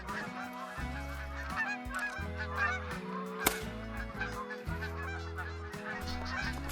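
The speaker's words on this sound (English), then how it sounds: "we do have a snow goose clip" A snow goose honks in theHunter: Call of the Wild, a rare intermediate morph, calling repeatedly in steady bursts under a continuous game ambience and music bed, with one sharp click partway through.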